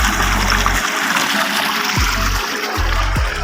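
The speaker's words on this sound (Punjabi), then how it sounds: "ਇੱਧਰ 6 ਪੈਪ ਤੋਂ ਪਾਣੀ ਨਿਕਲਦਾ" Water gushes steadily from the 6-inch pipe of a Baani Star solar pump system at Sardargarh, a loud, continuous rushing splash with a low motor hum pulsing beneath it.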